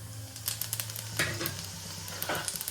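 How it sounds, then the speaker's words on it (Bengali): Cumin and a little coriander tempering in hot oil in a wok, a close crackling sizzle with quick rapid pops and spatters, lively and continuous. "এবার তেলে ফোড়নটা দেখে নিই। জিরে আর সামান্য একটু ধনে দিয়ে দেবেন"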